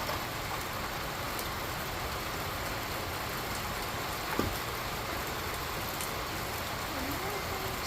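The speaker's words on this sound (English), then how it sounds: "It's starting to rain super hard right now." Heavy rain pours during a massive thunderstorm, a steady dense hiss that stays even and close throughout, with a faint brief knock partway through.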